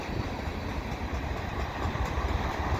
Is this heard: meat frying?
no